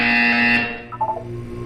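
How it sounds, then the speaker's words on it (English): A harsh electronic buzzer from the Portal 2 video game blares loudly for about half a second, then cuts off and fades into a low hum with a few soft tones. "When you hear the buzzer, look up at the ceiling."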